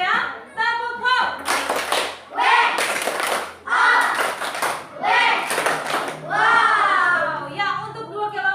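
Children in a classroom clap their hands in rhythmic bursts, mixed with loud group chanting and voices that rise and fall together.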